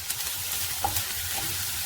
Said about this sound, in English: the trick to preparing onions for dishes is to do them slowly on a gentle heat